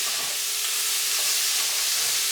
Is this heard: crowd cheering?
no